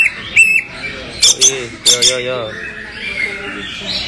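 A caged green leafbird (cucak ijo) gives sharp squawking calls in short bursts close by, mixed with people chatting casually around it.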